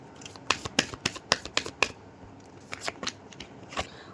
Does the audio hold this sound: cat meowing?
no